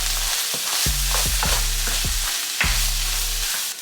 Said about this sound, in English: I'm gonna go ahead and mix all this stuff together